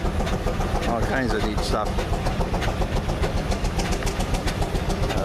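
An old coal- and wood-burning steam engine runs at a tractor show with a steady chugging rumble, under a voice speaking briefly nearby.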